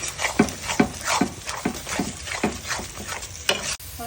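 Ground coriander and cumin fry in hot oil for a fish curry with potatoes, a spatula scraping the pan in an even rhythm of about eight strokes over a soft continuous sizzle, close by.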